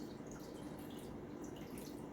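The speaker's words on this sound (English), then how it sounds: "And I'm going to pour this in" Beef broth is poured steadily into a pot over beef cheeks, a continuous soft splashing trickle of liquid heard close and fairly quiet with no talk.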